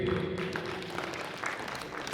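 Audience applause breaks out at a birthday celebration in Mumbai for Ratan Tata's 86th, a steady wash of clapping from a crowd blended with talking voices and a faint sustained tone throughout.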